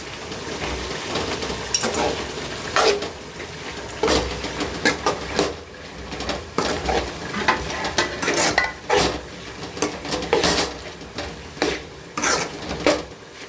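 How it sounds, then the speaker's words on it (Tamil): Biryani masala is stirred in a pan, with repeated scraping and clattering strokes of a spoon against metal over a soft sizzle, in an irregular rhythm with no voices. "சிம்மில் வச்சுட்டு அப்படியே பரட்டி விட்டு அடி பிடிக்காத அளவுக்கு கொஞ்சம் பரட்டி விட்டோம்னா"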